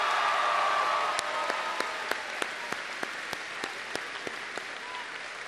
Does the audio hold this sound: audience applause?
yes